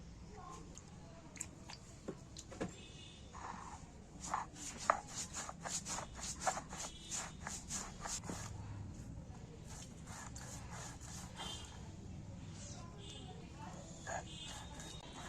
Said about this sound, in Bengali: এবার আমি পোস্তটা বেটে নিচ্ছি